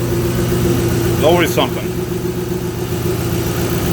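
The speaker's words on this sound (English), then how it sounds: "Engine sounds pretty good. The exhaust is loud as crap." A 2005 Ford Mustang GT engine idles with a loud exhaust, a steady low drone throughout, while someone speaks briefly over it.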